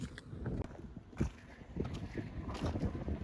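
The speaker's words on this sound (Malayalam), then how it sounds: "അത്രയും കാറ്റുണ്ട് ഇവിടെ" Strong wind in an open area full of windmills buffets the microphone in uneven low rumbling gusts and bursts, rising and falling over a few seconds.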